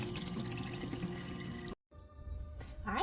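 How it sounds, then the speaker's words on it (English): Boiled penne pasta drained from a pot into a sink, water pouring and splashing steadily with a brief cut, then gurgling and running again at close range. "we're going to drain our pasta"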